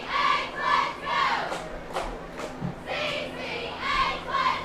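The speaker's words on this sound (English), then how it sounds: "Probably hear the cheerleaders in the background." High school cheerleaders at a football game shouting rhythmic chants in unison, several loud pulsing phrases rising and falling at a moderate distance, with crowd noise underneath.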